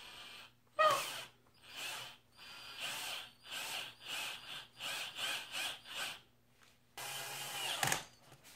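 A power drill drives screws into the body of a wooden Frankenstein toy, producing a series of short whirring bursts separated by brief pauses, close by, ending with a longer, grinding run.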